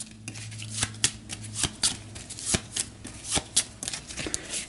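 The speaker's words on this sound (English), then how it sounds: "So let's give these a shuffle." A deck of cards shuffled for the Cartographers board game: close, rapid riffling bursts with crisp snapping flutters, repeated several times in an uneven rhythm with no talking.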